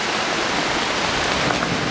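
Steady rain falls as a dense, even hiss with no breaks, close and fairly loud, with no voices.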